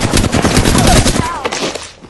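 Gunfire in Apex Legends, a dense barrage of rapid shots firing continuously and loudly throughout, easing slightly toward the end, with bits of game sound mixed in.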